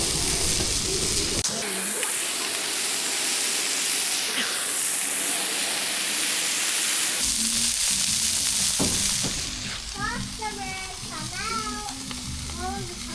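Smash burgers frying on a Blackstone griddle, a loud, steady sizzle and hiss of meat hitting the hot flat-top, later easing off beneath scraping and clinking sounds.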